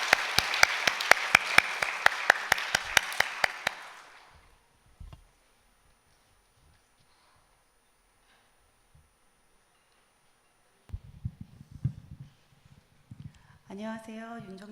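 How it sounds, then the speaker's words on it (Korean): A church congregation at a Friday night service claps in a loud, steady, rhythmic burst that fades out after about four seconds, followed by near silence and then a speaking voice. "나오실 때 떨리지 않도록 큰 박수로 또 격려해 주시면"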